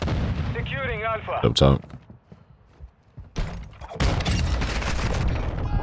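A Lockwood 300 shotgun fires in Modern Warfare 2, with a loud double blast around the middle and more shots and game noise near the end, as players talk briefly over the action.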